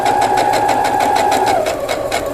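A sewing machine runs continuously, stitching diamond-patterned table runner fabric, its needle beating in a steady fast rhythm close and loud throughout.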